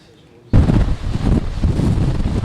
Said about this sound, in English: Right now we're feeling pretty significant wind gusts here in Punta Gorda.